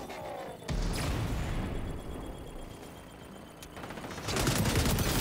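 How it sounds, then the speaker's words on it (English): Sustained gunfire rattles in the shooter game XDefiant, with dense rapid shots throughout, briefly easing mid-clip before a louder burst at the end, no talk over it. "I can just sit here and just shoot"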